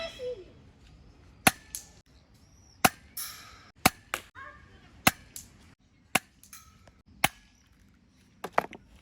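A Mauser Vigor V10 toy pistol fires about a dozen sharp, snappy cracks at irregular intervals, close by and distinct against a quiet background.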